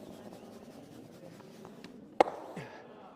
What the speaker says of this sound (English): you can hear the brooms sweeping, you can hear the stones clicking when our mic'd up guys launch this